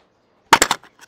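A car blasted and exploding in the Rope Hero video game gives a sudden loud burst of several rapid blasts after near silence, followed by fading smaller pops.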